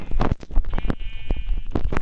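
Sheep bleating in a survival video game, several short, close bleats in quick succession, loud and unaccompanied by talk.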